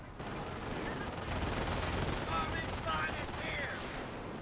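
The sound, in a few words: squad gunfire at riflemen in Company of Heroes video game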